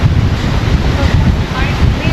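Strong wind gusts buffet the microphone on Casapsapan beach, with surf washing in the background. The roar is loud and steady and no one speaks.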